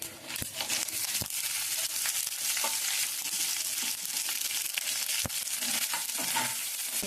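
Urad dal and chana dal fry in hot oil with mustard seeds, giving a steady, close sizzle, with sharp pops and crackles scattered throughout and occasional stirring scrapes.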